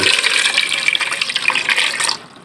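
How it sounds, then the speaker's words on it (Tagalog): Water runs steadily into a cooking pot for boiling cassava root, a continuous splashing hiss that stops abruptly near the end. "Ito, lagyan natin ng tubig."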